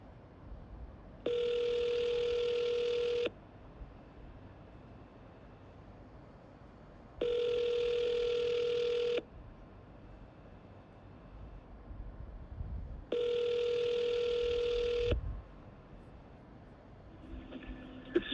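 An outgoing phone call rings back three times, each steady two-second ring separated by silence, clear and close over a faint hiss.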